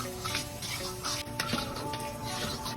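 Asian stir-fried chicken sizzles loudly in a wok, a steady close hiss of frying with faint clinks of utensil against the pan throughout.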